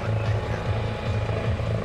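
A U.S. Coast Guard search-and-rescue helicopter with an enclosed ducted-fan tail rotor, flying at an airshow, gives a steady rotor throb with a pulsing low thrum. The sound continues at an even level throughout.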